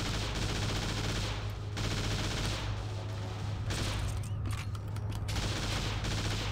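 Gunfire in TimeSplitters Future Perfect, as dense, sustained automatic shooting layered over a steady low hum, with short pauses between bursts.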